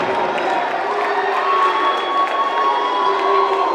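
A college men's basketball crowd at the Athletic and Wellness Center cheers loudly and continuously after a three-pointer, with shrill young voices shouting in the mix.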